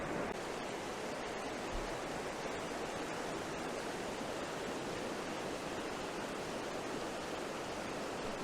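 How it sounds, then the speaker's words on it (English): A waterfall near Fantail Falls in Mount Aspiring, New Zealand, rushes as a constant broadband roar, steady and moderately loud, with no voices over it. "So I'm getting very close to the waterfall. I can actually hear it."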